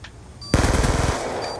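A sudden close burst of rapid automatic gunfire in Black Ops 2 Search and Destroy, a fast regular rattle lasting about half a second before cutting off into ringing game ambience.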